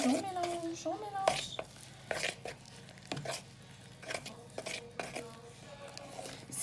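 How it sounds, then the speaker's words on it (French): Homemade play dough mixture with blue food colouring is stirred in a bowl, giving repeated scraping clinks of a utensil against the dish, with a voice and speech heard over the mixing. "Et on mélange, on mélange, on mélange."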